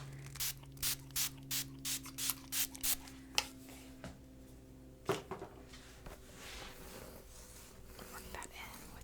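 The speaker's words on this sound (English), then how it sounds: "I'm going to spray with a heat protectant" A series of short, crisp heat protectant spray bursts onto hair in quick rhythm, about ten pumps close up, followed by a couple of softer spritzes and light rubbing sounds of working it in by hand.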